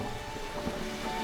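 Steady rain with low rumbling thunder in a monsoon-season forest where elephants wallow in mud, a continuous wash of rainfall filling the short stretch without voices.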